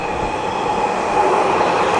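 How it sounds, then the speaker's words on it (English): A loud train rolls past close by, a steady broad roar of rail noise with faint wheel squeal riding on top for the whole stretch. "There's a train. Very loud."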